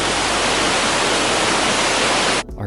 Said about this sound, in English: Here we are at Tahquamenon Falls, largest waterfall in Michigan.